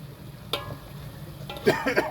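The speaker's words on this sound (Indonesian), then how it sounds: "Oseng-osengnya ada toge, kacang, dan tempe." Bean sprouts, peanuts and tempeh being stir-fried in a pan with oil give a soft sizzle, broken by a quick scrape early on and a louder clatter of stirring near the end.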